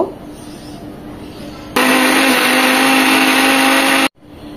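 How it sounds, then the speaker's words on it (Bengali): An electric blender grinding soaked lentils with four green chillies starts abruptly, whines loudly and steadily for a little over two seconds, then cuts off sharply after quiet room noise. "এখন এগুলো ব্লেন্ড করে নেব।"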